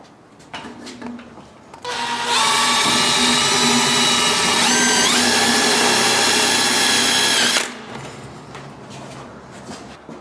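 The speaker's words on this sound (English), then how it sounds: "then we're going to screw them down with some more sheet metal screws." Power drill driving self-tapping sheet metal screws into water heater vent pipe: a loud, sustained high-pitched whine lasting several seconds with a brief pitch dip midway, framed by quieter handling clatter before and after.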